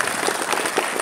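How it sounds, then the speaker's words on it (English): A crowd at a political march gathering applauds, a dense steady wash of many hands clapping together, fairly loud and continuous for about a second. "Can you give another round of applause"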